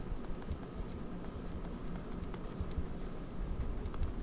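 Marker or chalk scratches on a board in quick, steady strokes, close and fairly soft over a low room hum, with no talking.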